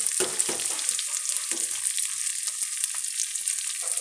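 Steady, loud sizzling of chopped garlic frying in hot oil in a pan, with a few stirring scrapes and clinks, no voices.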